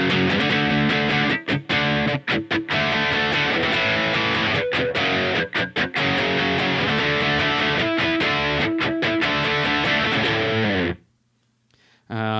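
Electric guitar rhythm tone from a Line 6 HD500 multi-effects unit, a thick, driven distorted sound playing strummed chords with brief chopped stops, loud and continuous for about eleven seconds before cutting to near silence.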